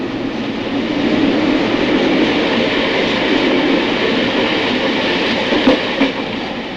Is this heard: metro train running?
yes